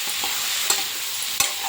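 Cucumber pieces being stirred into a tomato curry in a hot pan, a steady soft sizzle with a couple of sharp scraping clinks of the spoon against the pan, close and alone without talk.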